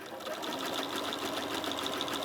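A sewing machine stitches along the tapered end of a fabric bag, running in a fast, steady, even whir close to the microphone.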